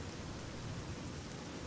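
Steady rainfall in the Fallout 3 video game makes a soft, even hiss of drops with a faint low rumble underneath, continuous and fairly quiet, with no talking.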